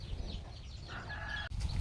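Chickens in a backyard jackfruit garden give a brief cluck and a short crowing note at moderate distance over quiet outdoor ambience, with no talking.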